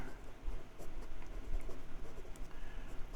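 Wing Sung 601 fountain pen with a fine nib scratching across paper, a soft, continuous close-up rasp of strokes with small pulses, alone without talk.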